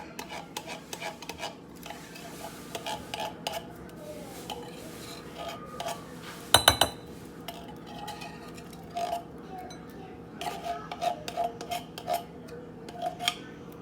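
A spoon scraping condensed milk out of a metal can for a Kool-Aid pie, giving light intermittent scrapes and taps with one sharper metallic knock partway through.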